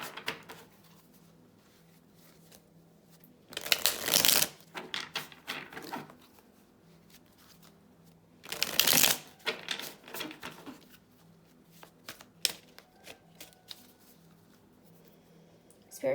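Tarot cards riffled and shuffled by hand in two loud bursts, with softer card handling and tapping between them in a quiet room.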